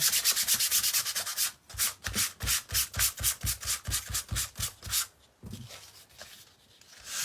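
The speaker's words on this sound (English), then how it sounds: "sanding my hat. And you're going to want to sand both sides of your brim." Sandpaper scrapes the brim of a handmade primitive pilgrim hat in rapid rhythmic strokes, loud and close, first speeding up and then slowing to a few softer rubs.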